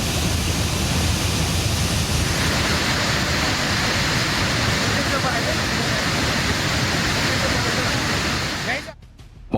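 A raging mountain river in flood after a cloudburst in Dharali, Uttarakhand roars as a loud, continuous wall of rushing water that holds steady for several seconds, then briefly drops away near the end.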